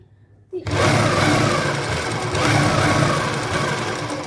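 Electric sewing machine stitching a fitted kameez seam in a boutique, a steady close mechanical whirr that starts abruptly after a short quiet moment and runs continuously to the end.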